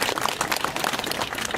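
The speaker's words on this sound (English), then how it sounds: "give them a big round of" Dense applause and clapping from a crowd at an outdoor Right2Water rally in Tralee, steady and fairly loud throughout the brief moment.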